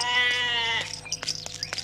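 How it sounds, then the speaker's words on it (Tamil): A goat bleats loudly and close by in one long wavering call, followed by a few shorter, scattered animal sounds. "ஆடு நம்ம ஆடு, நம்ம நல்லா சாப்பிட வேண்டிய ஆட்டு இருக்கா."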